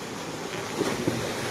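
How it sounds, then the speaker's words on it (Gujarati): A waterfall pours down in an open outdoor spot, making a steady, dense rushing roar that stays even throughout, with no voices. "આવો સરસ મજાનો ધોધ અહીંયા પડે છે"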